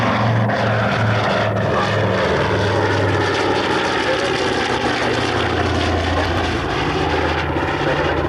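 Propeller aircraft flying at the RAF Coningsby airshow in 1992, a steady loud engine drone with a low throbbing hum that holds throughout without pause.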